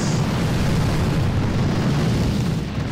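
Barrage explosions pounding an enemy base in the strategy game Boom Beach, a dense continuous rumble of overlapping blasts, loud and steady throughout.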